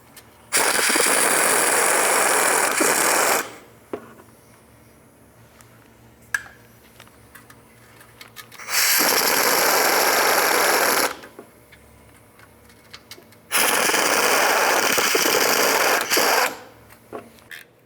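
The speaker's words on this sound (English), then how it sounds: "Remove all the bolts first, and then we'll remove the nuts last." A power tool whirs in three bursts of a few seconds each, removing oil pan bolts on a Toyota Solara, separated by quieter stretches with small metallic clicks and clanks.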